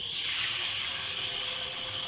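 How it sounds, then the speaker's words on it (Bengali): Boiled hog plum water pours steadily into a hog plum pickle, making a continuous close liquid rush that ends in a brief clink, with no talk. "সিদ্ধ করা আমড়ার জলটা এখন দিয়ে দেব"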